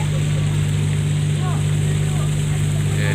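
A deep, steady ferry engine rumble drones continuously with a constant low hum, close and loud, heard near the engine on a night crossing from Sinabang to Labuhan Haji, overlaid by broad noisy wash.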